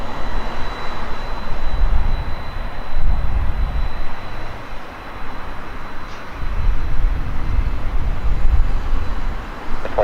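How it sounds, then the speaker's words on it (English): A heavy Boeing 767 departs runway 28 left at Portland airport, its engines a loud, steady, broad roar that swells and surges throughout, with no voices. "caution terms for Heavy Boeing 767 departing, runway 28 left"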